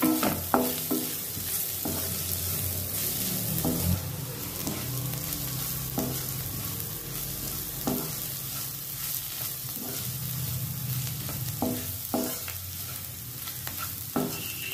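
Garam masala powder and turmeric roast in oil over a low flame, giving a constant soft sizzle with regular scrapes and knocks of a spoon stirring in the pan; close, no talking.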